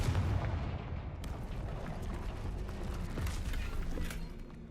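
Confringo fire spell detonating in the Hogwarts Legacy video game, a dense roaring blast of crackling noise with sharp bursts near the start and end, loud and sustained throughout.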